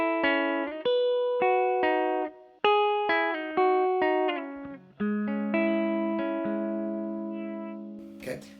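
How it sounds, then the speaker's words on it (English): An electric guitar plays a chorus fill: clean plucked notes and short chord stabs in a bouncy rhythm, then a longer sustained chord that rings out and fades, near and alone. "it's a really nice little guitar fill section kind of thing that moves through"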